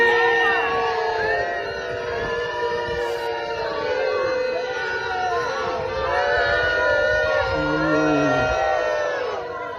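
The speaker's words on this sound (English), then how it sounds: "she had the brass neck to appear at this meeting where she was booed" A large crowd at a meeting boos and jeers J.K. Rowling, a loud sustained wall of overlapping voices with drawn-out shouts and whoops throughout.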